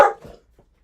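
A single short dog bark, sharp and fairly close, followed by a faint softer yip and then quiet.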